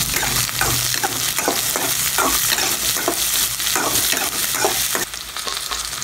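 A steady loud sizzle from a hot pan sautéing coconut and chilies, with repeated scraping and stirring strokes, continuous throughout with no talking.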